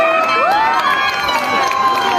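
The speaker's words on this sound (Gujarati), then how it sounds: "તો કરણ સાથડિયા માટે એકવાર જોરદાર તાળીઓ થઈ જાય મિત્રો." A crowd of guests at a wedding celebration cheers and applauds loudly, with whoops and shouts over steady clapping and a few raised voices in the mix.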